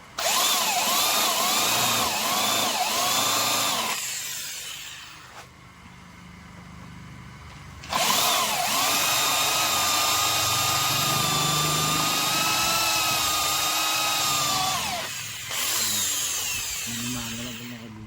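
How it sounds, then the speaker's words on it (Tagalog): Power drill boring holes through a steel plate for a sidecar mould, loud and close with a steady whine in two long runs separated by a short pause, then a third burst starting near the end. "magbutas muna tayo dito ng steel plate para po sa ng molde ko"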